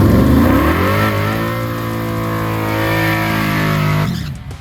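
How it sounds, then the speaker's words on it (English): Chevrolet Malibu drag car with a new converter and nitrous kit doing a burnout, a loud, steady high-revving engine roar that holds for about four seconds, then cuts off sharply. "The old Malibu sounded clean and crisp in the burnout"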